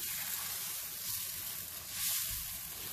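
Food fries in a pan, a steady close sizzle with faint stirring scrapes now and then, no voices.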